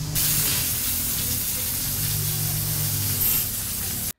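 Water sprays steadily from a garden hose pipe outside a house with a freshly painted mural, a continuous close rushing hiss lasting about four seconds before stopping abruptly, with no voices.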